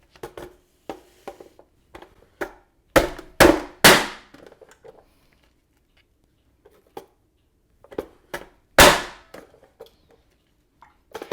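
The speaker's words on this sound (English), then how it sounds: "You really do have to do this to cut it. You have to slam it down." Manual food chopper slammed down repeatedly to cut sliced onion, giving a series of sharp clacking thumps, some in quick clusters and a few louder ringing hits, with quiet gaps between them.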